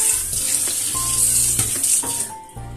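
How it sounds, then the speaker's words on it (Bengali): Raw chicken meat is washed under running water, a close, steady splashing stream with some clattering as the pieces are handled. "একটু ধুয়ে নেবো, ধুয়ে মাংসটাকে জল ধরতে রাখবো"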